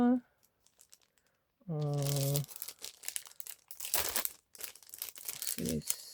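Paper and fabric wrapping crinkle and rustle in close, uneven bursts, with a voice humming or speaking briefly between them.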